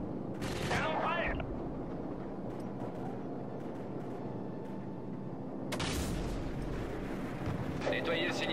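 Cannon fire in Call of Duty 4: Modern Warfare on Xbox 360 booms in two heavy blasts several seconds apart over a constant rumble of battle noise, with crackling debris and radio voices in the game.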